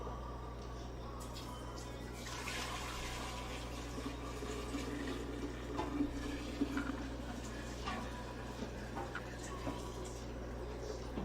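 Sweet brown honey liquid for mead is poured into a gallon jug, giving a soft continuous trickling, filling sound close by under a low steady hum.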